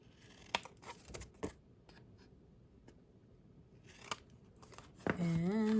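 Scissors snip paper corners for an album in a few quick close cuts with crisp paper rustles between them, before a voice begins speaking at the end.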